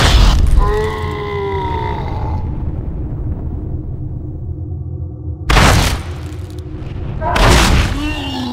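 Boxing punch knockdown replay in Fight Night Round 2 on PS2, heavyweight match, with heavy booming thuds and grunts, a loud impact at the start and two more later, under game audio.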